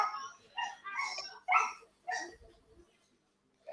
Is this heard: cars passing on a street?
no